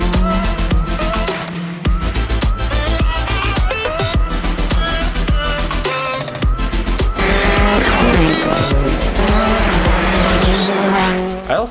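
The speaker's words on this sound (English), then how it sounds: "A family friend of ours was testing his new Ford Fiesta R5 rally car" A Ford Fiesta R5 rally car on a testing day, its loud engine revving hard through repeated gear changes with tire squeal and skidding, close and continuous over the whole stretch.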